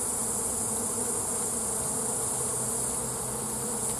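Dense, steady buzzing of many honey bees around a hive, mostly field bees returning, a close continuous drone filling the whole stretch with no voices.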